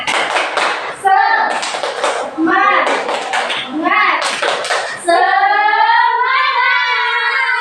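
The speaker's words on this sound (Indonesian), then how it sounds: "Oke, tepuk semangat." Schoolchildren in a classroom do a rhythmic spirit clap, chanting together in bursts punctuated by sharp group claps, then finishing in a sustained, sung call, loud and close.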